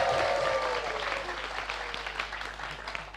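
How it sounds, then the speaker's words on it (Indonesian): Studio audience applause for Sarip on a comedy show, a dense burst of clapping that starts strong, thins gradually over three seconds, and carries a brief voice at the start. "Boleh tepuk tangan sekali lagi buat Sarip kalau gitu."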